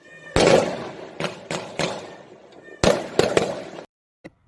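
A fireworks sound effect used as a livestream donation alert, with a rapid series of sharp bangs and crackling bursts over a rumbling bed, loud and close, ending in a last faint pop.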